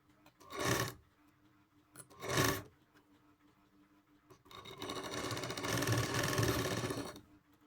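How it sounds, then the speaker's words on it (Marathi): Sewing machine double-stitching a katori blouse: two short bursts of stitching, a pause, then a longer steady run of several seconds, close and clear with no talking. "लागलीच दोन शिलाई मागून घ्यायची डबल शिलाई"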